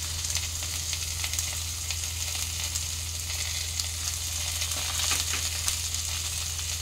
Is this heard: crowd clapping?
no